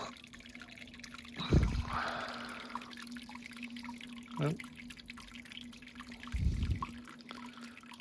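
Water trickles through the grain bed while sparging a homebrewed saison, a faint, steady dribble over a low hum, broken by a few brief, louder splashes and pours.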